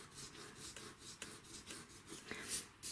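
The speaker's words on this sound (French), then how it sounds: "Je vais juste gommer pour me faire un peu de place." An eraser scrubbing paper during dry pastel drawing, a soft, quiet, steady rubbing made of quick back-and-forth strokes with a few sharper scratches, close by and without talk.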